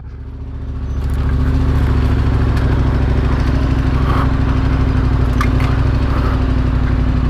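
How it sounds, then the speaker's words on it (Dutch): A heavy moped ridden offroad, its small engine droning loud and steady close by after a brief quieter start, with no voices over it. "Kom ik aan met mijn dikzak brommer."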